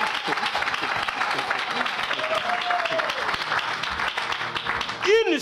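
A church congregation claps and applauds steadily, a dense wash of hands filling the room, while a voice talks and calls out over it.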